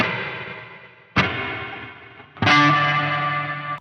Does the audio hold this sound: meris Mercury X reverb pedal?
yes